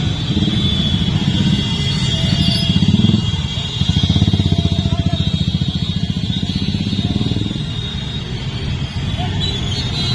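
Motorcycles in a Congress youth wing bike rally near Sangolli Rayanna circle in Belagavi give a loud, continuous engine rumble and clatter, with indistinct voices mixed into the roadside noise.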